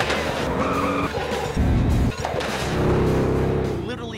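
Stunt cars skid and roar at full speed, 80 to 100 miles an hour, during a big chase in the 2007 film Death Proof, with loud continuous engine and tire noise surging throughout.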